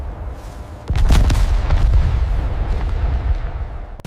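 German artillery fire and explosions in a frozen winter forest at dawn make a sudden heavy boom followed by long rolling, rumbling echoes and a few further thuds fading out.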